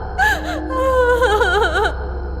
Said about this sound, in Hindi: इतनी रात गए लड़की के रोने की आवाज